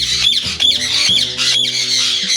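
A ringneck parrot in a breeding cage lets out loud, harsh squawks close by, in a rapid run of repeated shrill calls with almost no pause between them.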